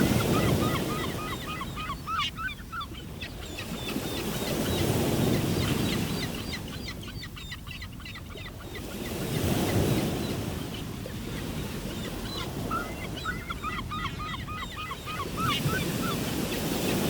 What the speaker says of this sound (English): winds of 180 kilometers per hour whip giant waves